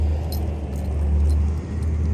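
A car rumbles past on a foggy morning road, a steady low engine and tire drone close by, with faint jingling from a dog's leash or tags on top.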